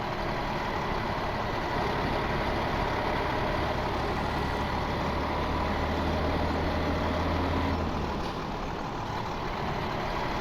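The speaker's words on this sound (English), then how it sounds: "if you sat there and just listened to the engine sounds for a moment, it's just a repeating sound." A truck engine in Farming Simulator 17 idles in a steady, low, looping drone that stays loud and unchanging throughout, with no voices over it.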